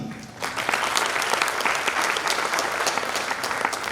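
Audience applause at an awards ceremony, a steady, fairly full burst of clapping rising quickly and holding for several seconds at moderate loudness, with a faint voice beneath it.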